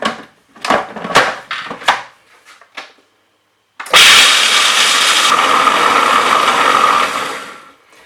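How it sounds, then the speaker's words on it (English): A food processor blitzes cashews, whirring loudly and steadily for about three seconds after a pause, with a shift in pitch partway as the nuts break down. Some clattering and handling noise comes before. "So add my cashews into it, and I'm gonna give it a quick blitz."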